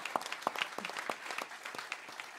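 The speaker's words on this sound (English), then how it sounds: "Give them another round of applause." Audience applause at a Celtic Christmas concert at Sellersville Theatre, a fairly faint clatter of many hands clapping throughout, with individual sharp claps standing out.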